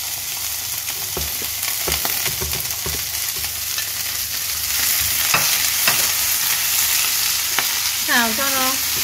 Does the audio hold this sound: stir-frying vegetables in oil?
yes